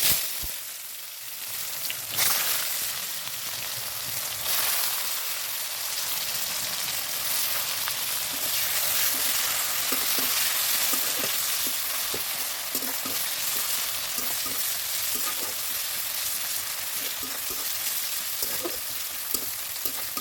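Onions fry in hot oil with whole cumin and whole garam masala for a chicken kosha, a loud steady crackling sizzle with stirring scrapes, close and continuous with no talk.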